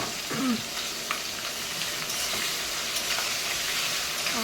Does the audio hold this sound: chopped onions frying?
yes